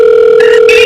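A loud, steady electronic telephone tone rings close up with no voices, holding one pitch while a higher overtone shifts partway through, a call going unanswered.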